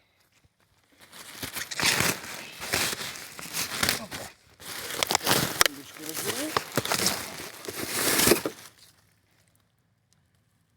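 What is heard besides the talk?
plastic bag being handled at a garbage dump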